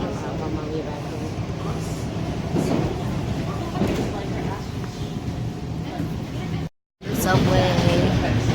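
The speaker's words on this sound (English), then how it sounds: "I'm on the subway back home." Steady rumble and rattle of a subway train in motion, heard from inside the car, continuous with a brief cut near the end, with faint voices underneath.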